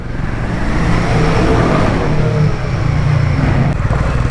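Royal Enfield Himalayan 450 motorcycle riding uphill on a Bangalore to Goa trip, a steady, loud engine rumble mixed with road and wind noise throughout, the single-cylinder note unbroken for several seconds.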